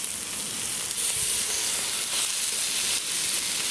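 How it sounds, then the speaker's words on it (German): Meat searing in a little hot oil inside a gas-heated Dutch oven, a steady close-up sizzle and fizz that holds evenly throughout with no talking. "Der Ofen ist erhitzt und jetzt kommt unser Fleisch erst einmal hinein zum"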